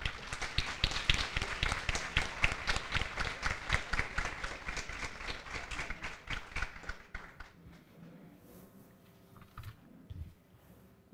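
Audience applause at a school presentation event in the Dominican Republic, a dense, sustained clapping from a large crowd that fills most of the clip before thinning and fading out near the end.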